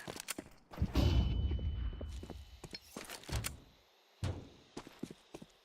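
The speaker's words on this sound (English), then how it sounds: "Throwing a flashbang!" A flashbang goes off in a tactical shooter video game: sharp impact transients, then a loud burst with a long ringing tone that trails away, followed by scattered thuds and clicks.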